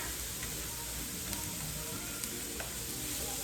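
Plant-based spaghetti ingredients sizzle steadily while frying in a pan, a dense continuous hiss with a few faint clicks, no talking.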